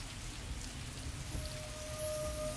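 Steady rainfall pours down, a constant dense patter of drops on surfaces with a low rumbling undertone, continuous and moderately loud with no voices.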